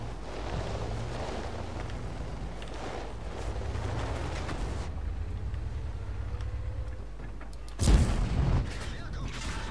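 A tank cannon fires in World of Tanks gameplay, a single sharp booming blast late in the clip after a stretch of low engine rumble and talking.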